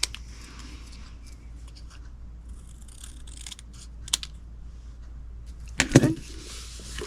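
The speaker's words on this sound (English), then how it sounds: "I'm just going to cut my sentiment by hand." Scissors snip through a paper sentiment for a stamped card-craft treat box, giving soft scattered crisp cuts and paper rustles over faint room hum, with a sharper louder snip close by near the end.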